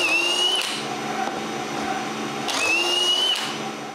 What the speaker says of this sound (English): I don't forget to drill the holes for the shelves.